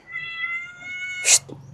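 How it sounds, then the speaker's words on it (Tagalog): A cat lets out a single loud, close meow during a home kitchen cooking session, a short sharp cry rising above a steady background hum. "ang ingay ng pusa"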